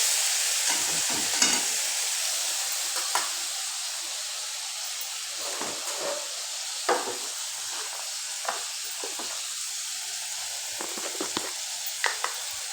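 Onion, garlic and ginger paste fry in hot oil in a wok, making a close, steady hissing sizzle, with periodic scraping stirs and light knocks of a spatula against the metal.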